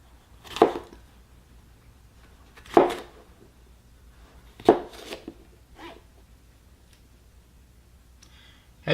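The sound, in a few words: paring knife cutting up three colors of produce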